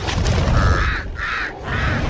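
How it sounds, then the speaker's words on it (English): Pied crows give three harsh, evenly spaced caws against a steady low rumble of outdoor background noise. "pied crows."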